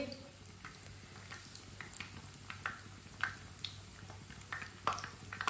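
Bread rolls frying in oil in a pan, a soft steady sizzle with scattered pops and crackles, fairly quiet and close, with no talk.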